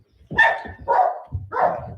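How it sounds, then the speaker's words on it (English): A dog gives three quick, close barks in a row, the middle and last ones rougher, with some low shuffling noise underneath. "Come on, Moby. There's the dog"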